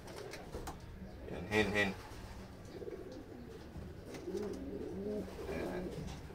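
Racing pigeons coo softly at a loft during a derby race in Catanauan, Quezon, low murmuring calls beneath quiet nearby talk and background noise.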